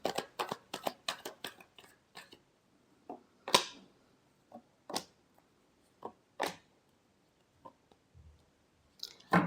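Tarot cards being shuffled, a run of quick papery riffle clicks followed by scattered single snaps and taps, close and fairly quiet with no voice.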